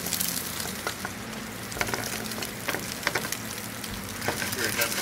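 A seasoned, blackened calico bass fillet sizzles in a non-stick frying pan, with a steady loud crackle and spitting pops throughout, close by and without talk.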